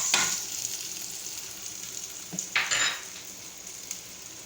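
Sardines hit a hot pan of sautéed garlic, onion and ginger with a soft, steady sizzle, broken by a few brief louder hisses and stirring scrapes; no voices.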